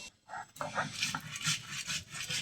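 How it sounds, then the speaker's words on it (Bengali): Coriander, cumin and dried chili being ground by hand, a close rhythmic scraping and rubbing that repeats in short strokes, moderately quiet and without speech. "ধনে, জিরে আর শুকনো ঝাল আগে বেটে নেব।"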